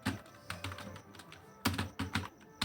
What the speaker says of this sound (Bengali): আবার ট্যাব দিলাম। ট্যাব দেওয়ার সাথে সাথে এবার আরেকটা প্রশ্ন লিখব